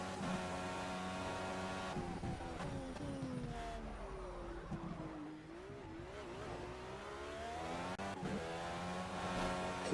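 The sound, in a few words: Indycar engine at Laguna Seca in racing simulator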